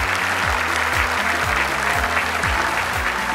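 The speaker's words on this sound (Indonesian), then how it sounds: "Sekali kita buat tepuk tangan untuk Pak Seman" A big studio audience at the Indonesia's Got Talent 2022 grand final keeps up thick, sustained clapping for Pak Seman, with a steady low beat thumping underneath the whole time.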